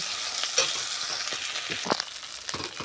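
Masala being stir-fried in a pan for a rui fish curry with curd, giving a steady bright sizzle broken by repeated scraping and stirring strokes, close and fairly loud, with no voices.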